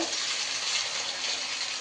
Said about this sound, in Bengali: পনিরটাকে একটুখানি হালকা করে এসে দিয়ে ভেজে নিলে পনিরগুলো একটু মচমচ লাগবে খেতে